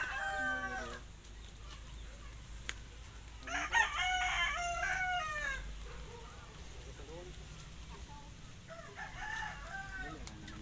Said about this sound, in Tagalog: Kasi napasok ng manok.